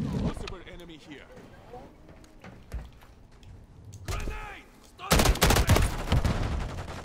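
Burst-fire gun shooting in Call of Duty MW3, with scattered shots early, a dense loud volley near the end, and a voice talking over the action.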